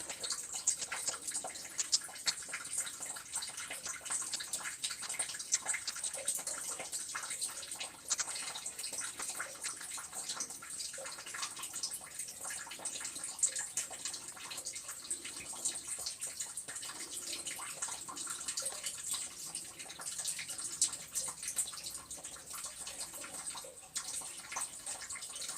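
Liquid, likely curing resin, poured onto a workbench right beside a puck held in place, a steady soft trickling and splashing pour that runs without pause, close and fairly quiet, with no talk.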